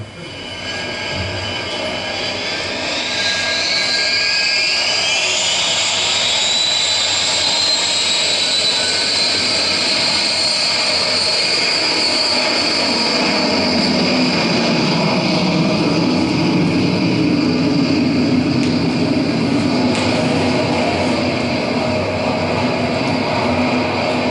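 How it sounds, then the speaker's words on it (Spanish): A jet aircraft takes off in a played recording, its engine roar swelling loud and steady with a rising whine over a deepening rumble, continuous throughout with no voices. "Sonidos de jets despegando"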